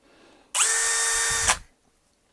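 A Chinese-made Makita-clone brushless 18V drill driver spins up sharply for about a second with a loud, high whining motor tone, then winds down and falls quiet, close to the listener.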